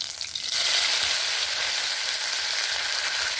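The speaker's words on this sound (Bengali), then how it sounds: "এবারে এখানে কিছুটা পরিমাণে কারি পাতা নিয়েছি, পরিষ্কার করে ধুয়ে কারি পাতাটা নিয়ে নেব।" Curry leaves and panch phoron hit hot mustard oil with a loud, steady sizzle that jumps up after a quieter first half-second and then crackles on without a break, close and alone.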